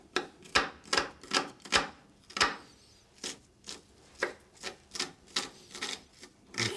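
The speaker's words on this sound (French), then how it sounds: "je vais émincer mon ail et mon échalote" A knife chops garlic and shallot finely on a board in a run of a dozen or so crisp, evenly spaced taps with one short pause, close and clear with no voice.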